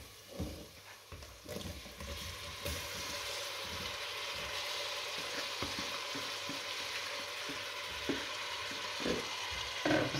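Tomato paste sautéing in a hot pan, a steady close sizzle with intermittent scraping and stirring knocks throughout, no talking.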